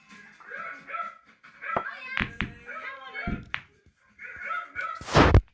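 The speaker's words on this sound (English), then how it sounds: "He's got one hell of a bark." A small dog barks in a house where builders are working, giving several loud, sharp barks mixed with thumps and knocks, with a voice-like sound between them.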